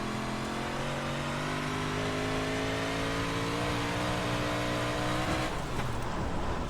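Engine of a 358 modified race car on the Williams Grove dirt oval in the iRacing sim roars steadily with rising and falling pitch through a corner, loud and continuous, then shifts tone near the end.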